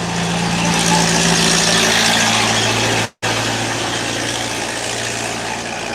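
Old tractor engine idling outdoors in drizzle, a steady loud low rumble with a constant hum, broken by one brief dropout midway.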